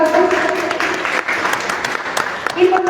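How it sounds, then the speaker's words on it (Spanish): Steady audience applause fills a hall at a book discussion held at a ministry as panel guests are welcomed, with a voice speaking over the clapping. "también nos acompaña Luis Reyes, a quien también lo recibimos con fuertes aplausos"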